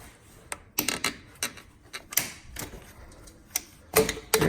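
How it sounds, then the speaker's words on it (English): A flathead screwdriver working a hose clamp loose on a Fiat 124 Spider Abarth intercooler install: a series of sharp metallic clicks and scrapes in irregular bursts, close and fairly clear with quiet gaps between. "Just take a flathead, just kind of work it in, similar to the other ones that we did earlier. Just kind of pull that clamp out."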